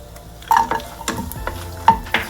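Dried red chillies and garlic go into hot oil in a kadai, with a low sizzle under clanks and scrapes of a ladle against the metal pan, several sharp knocks spaced irregularly, close and clear.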